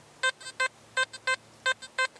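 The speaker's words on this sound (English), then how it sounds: "Mid tone." XP Deus metal detector giving its mid tone: a string of short, clean electronic beeps in an uneven pulse, with fainter blips between the main ones, heard alone and close.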